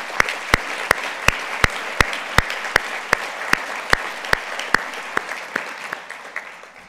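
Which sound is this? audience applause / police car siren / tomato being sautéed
audience applause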